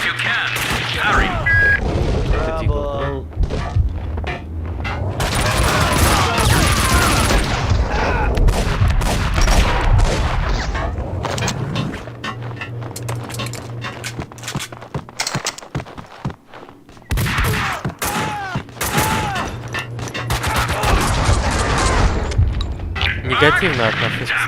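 Gunfire rings out in the video game Max Payne 2, with bursts of rapid shots and heavier booms repeating through the scene. Game voices and a commentator talk over the shooting.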